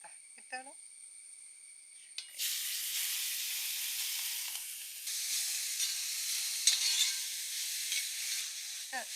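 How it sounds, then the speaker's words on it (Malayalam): Grated papaya sautéing in a pan for Onam payasam, a steady broadband sizzle that starts abruptly after a brief moment and continues loud and close, with scraping stir sounds and short bits of talk at the edges. "ഒന്ന് നന്നായിട്ട് വഴന്നോട്ടെ പപ്പായ ഗ്രേറ്റ് ചെയ്തതുകൊണ്ട് അധികം വേവ് ഉണ്ടാവില്ല"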